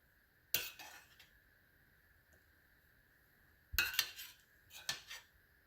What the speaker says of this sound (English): We'll just add some of that delicious barbecue gravy on top here